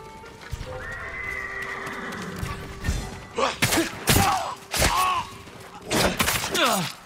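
Horses whinny and hooves clop in the stables of the samurai game Ghost of Tsushima, with a long neigh early on followed by several loud, close whinnies and snorts over a steady background hum.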